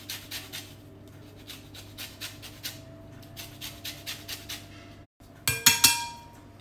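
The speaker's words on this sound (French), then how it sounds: "Je vais râper le zeste de citron" Lemon zest is rubbed against a grater in a regular series of soft rasping strokes, close and fairly quiet. A brief pause follows, then a few bright metallic clinks.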